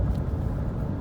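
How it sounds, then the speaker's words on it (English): Car engine driving along in fourth gear, a steady low hum and road rumble from inside the vehicle, fairly quiet and even with no talking. "right now I'm driving along in fourth gear"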